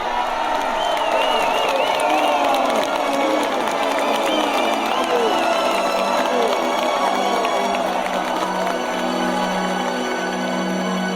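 A large crowd cheers and shouts continuously, a loud dense roar of many voices with excited calls rising and falling throughout.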